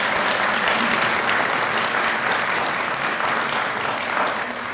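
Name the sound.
audience applause for board members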